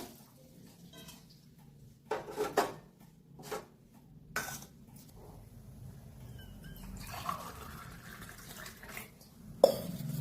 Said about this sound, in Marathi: सगळ्यात अगोदर ही बेलाची पानं धुवून घेऊया